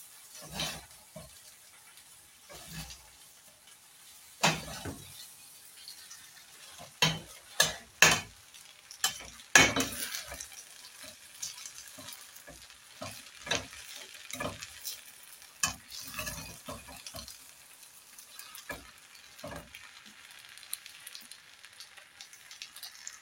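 Spaghetti is stirred in a sizzling frying pan, with irregular scrapes and knocks of the utensil against the pan over a soft frying hiss, and no one talking.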